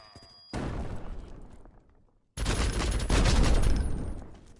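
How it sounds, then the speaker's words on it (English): Video game explosions in a competitive match, two loud broadband bursts with a rumbling tail, the second heavier and sustained, with no talk. "Dude, I love that explosion."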